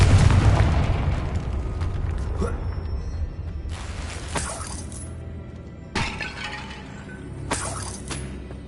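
Repeated blasting-spell explosions in a video game: a loud shattering burst at the start, then several more crashing booms and crackling bursts spaced a second or two apart, with faint talk in the background.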